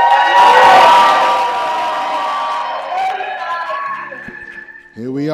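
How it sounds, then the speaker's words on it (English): A room full of people at a fitness industry celebration event cheers and whoops loudly at first, the roar fading into scattered shouts and chatter. "I want to hear a cheer from everybody in this room"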